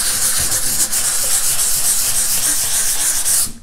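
A sanding pad is rubbed back and forth over dried raised stencil paste, giving a steady, close, gritty scraping that runs without a break until it stops abruptly at the end.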